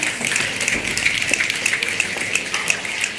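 A crowd of youth climate activists in a Capitol hallway snaps their fingers, a steady dense patter of many small crisp clicks blending into a rain-like texture at close range, with no talking.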